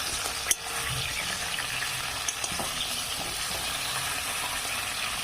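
Cauliflower florets frying in oil with salt over a medium flame, a steady, even sizzle that holds for several seconds, with a couple of faint clinks of a utensil against the pan.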